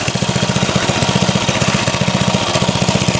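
A 1990 Briggs edger engine runs loud and close, with a steady rapid chugging putter and a constant mechanical roar throughout.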